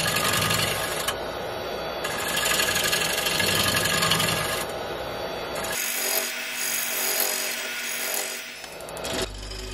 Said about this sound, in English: I'm using a 3/8 bowl gouge just to true up the edge of the blank here.